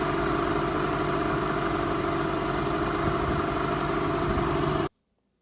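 A 1977 Mercury 150 hp inline-six outboard fitted with a chopper prop runs steadily at close range, a dense, unbroken engine drone that cuts off abruptly near the end.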